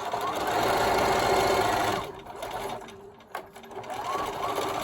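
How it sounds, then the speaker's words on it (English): A sewing machine stitches the seam of a fabric face mask with a fast, continuous close-up whirr. It slows to a few separate chunking stitches, then speeds up again. "And then I'll go ahead and sew the next one."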